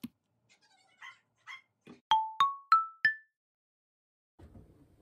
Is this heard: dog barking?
yes